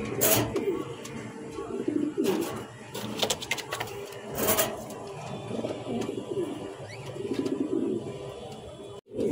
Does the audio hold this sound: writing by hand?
no